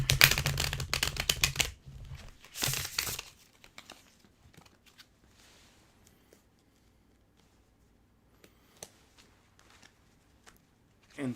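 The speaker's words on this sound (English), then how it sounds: "And 4 shuffles." A deck of tarot cards is shuffled in two quick, close crinkling bursts near the start, followed by a long stretch of near silence with only a few faint taps and rustles.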